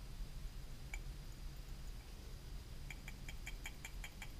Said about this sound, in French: on va vérifier qu'on entend bien le flotteur